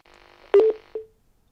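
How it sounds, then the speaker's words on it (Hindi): A telephone line cutting off after a call is hung up gives a few quick electronic tones: a short clustered burst, then one more beep, clear and close, with no voices. "तो आबकारी मंत्री जी ने हमारा फोन काट दिया है।"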